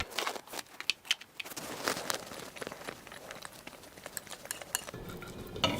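Dirty dishes and cutlery clatter and scrape as they are handled in a kitchen, with irregular clinks and knocks, some sharp and close, others soft, and no talking.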